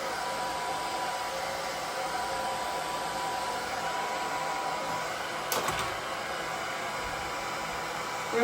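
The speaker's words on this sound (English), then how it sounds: "And I just kind of blow dry it up to get this part up, and then I go kind of side." A hair dryer blows steadily and close at constant volume while layered long hair is dried, with a brief knock near the end.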